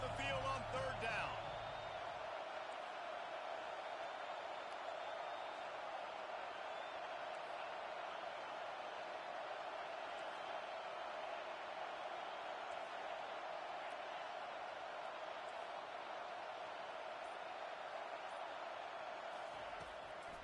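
Home stadium crowd roaring in a college football video game, Texas A&M against Nebraska, a steady dense wall of cheering that holds at full level throughout with a brief louder burst at the start.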